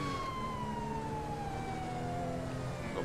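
An emergency siren from military police vehicles on a military base runway in a video game wails, fairly faint and distant, as a long slow falling tone over a low rumble of engine or traffic noise.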